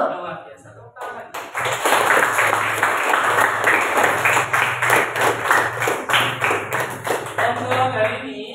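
Students in a classroom clap together in a loud, brisk burst of rhythmic applause that starts after a short pause and carries on steadily, with a teacher's voice briefly heard before it begins.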